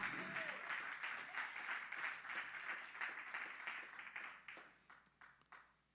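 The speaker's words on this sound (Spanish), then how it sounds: "Un aplauso al Señor" A church congregation applauds at a Spanish-language sermon, dense sustained clapping from many hands that slowly thins and fades over several seconds, with a preacher's voice briefly over the start.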